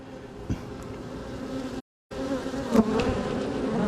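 Bees buzzing on and around a person's fingers, a steady close insect drone with a few louder passes and a brief dropout midway.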